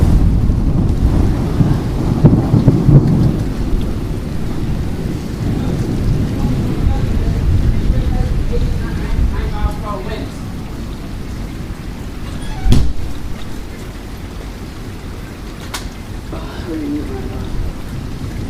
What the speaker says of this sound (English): Here goes my first real storm.